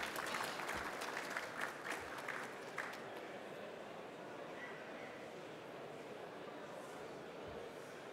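An audience at a tech expo applauds to welcome a speaker to the stage, a fairly distant burst of clapping that peaks early with a few sharp claps, then thins into a softer wash of room noise.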